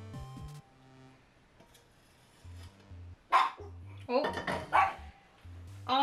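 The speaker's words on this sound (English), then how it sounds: "She goes from barks to snorts in a matter of seconds." A pug barks sharply a few times amid low humming and clatter, close by, with bursts of snorting between the barks.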